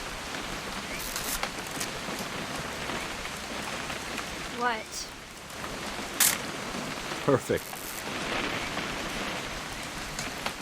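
Steady rain falls in the video game What Remains of Edith Finch, a constant hiss of drops on surfaces. Brief voices speak over it and a few short sharper sounds cut through.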